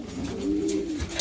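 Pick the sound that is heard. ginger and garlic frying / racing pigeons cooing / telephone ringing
racing pigeons cooing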